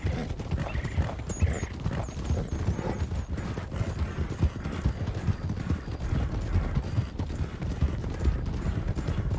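Donkeys running at full speed, their hooves beating a fast, continuous clip-clop rhythm throughout, close and loud, with an occasional faint whinny.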